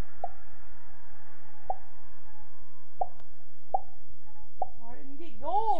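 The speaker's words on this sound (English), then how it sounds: "lick your thumb, wet it right here, and just push down kind of hard on your cheek, and then just go like that." Wet thumb pressed hard on a cheek and pulled away, giving five sharp hollow pops at irregular intervals over a low steady hum, close and clear.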